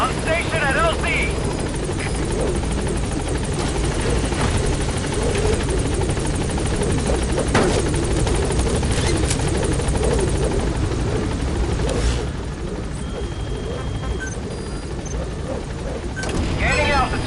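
Support helicopter from Metal Gear Solid V arriving at a landing zone, a steady loud rotor thrum with engine whine throughout, with radio-style voice chatter over it and a slight drop in level near the end.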